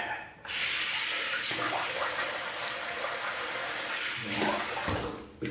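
Water runs steadily from a bathroom tap for a rinse during a wet shave with coconut and fresh lime soap, a close, continuous broadband splash that starts abruptly and holds to the end with slight swells.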